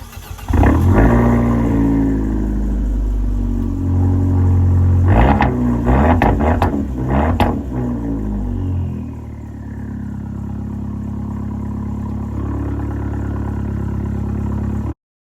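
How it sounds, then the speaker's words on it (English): A 2013 Fiat 500 Abarth with dual exhaust revs close by, throaty blips and sharp bursts building to rapid throttle stabs, then settling into a steady idle hum. "You get these surprisingly functional air vents and a dual exhaust, and just wait until you hear the sound it makes."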